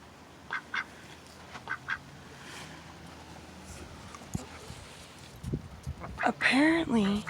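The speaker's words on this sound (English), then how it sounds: "There's a duck in the chicken coop." Ducks quack in short bursts inside a chicken coop, a few scattered calls early and then a louder cluster of nasal quacks near the end, over a quiet background.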